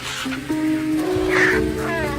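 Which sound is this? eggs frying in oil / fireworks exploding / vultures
vultures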